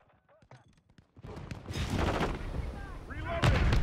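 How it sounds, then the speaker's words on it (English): Loud gunfire in a Call of Duty multiplayer match, a dense, sustained burst of shots that builds after a few quiet clicks and ends in a heavy blast. "it's a loud gun"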